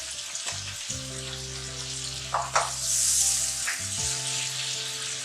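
Spices and washed dried fenugreek (kasuri methi) with salt sizzle and fry in a pan, a steady close crackle with occasional stirring scrapes and a brief louder burst of hissing.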